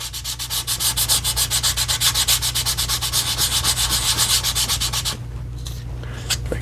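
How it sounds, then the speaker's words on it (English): Sandpaper scuffs a gun grip surface in quick, steady back-and-forth strokes, close and fairly loud, with no voices, before the rubbing stops near the end. "We're going to take this piece of sandpaper. We're going to scuff this up a little bit."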